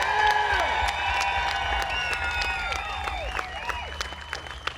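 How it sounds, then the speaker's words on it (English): A crowd at an outdoor Trump 2020 caravan rally in Arizona claps and cheers for law enforcement and military members. Sustained applause mixes with whistles and rising and falling calls, with sharp bursts standing out. "Let's give them a round of applause."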